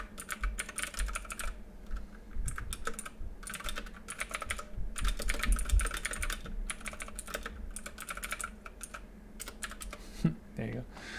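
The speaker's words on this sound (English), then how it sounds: "let me just type it here" Fingers type on a computer keyboard in rapid bursts of clicky keystrokes, with brief pauses between runs, close and steady over a faint background hum.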